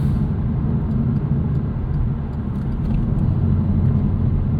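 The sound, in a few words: 2009 Chevrolet Cobalt SS turbo car driving into corner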